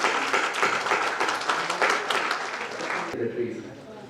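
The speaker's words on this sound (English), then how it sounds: "I would request you to please give a very big round of applause to Shri Kailash Pandey" Audience applause for a speaker at an inspirational speech competition, a dense, steady wash of clapping that runs loud for about three seconds and then drops off abruptly into quieter room noise.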